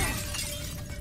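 Objects shatter and break apart with a sharp, loud crash and a brief ringing tail as they are smashed in the video game Baldur's Gate 3.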